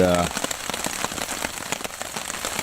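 Rain patters steadily on a tent at a cycle camp in the Pyrenees, a close, dense crackle of drops on fabric; a brief voice-like tone sounds at the very start.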